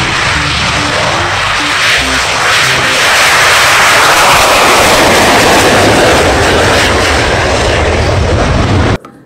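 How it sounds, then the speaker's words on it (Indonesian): A toy fighter jet gives off a loud, sustained roaring whoosh that builds and holds steady at full strength, close up and alone, then cuts off abruptly at the end. "Yang ini ada pesawat tempur."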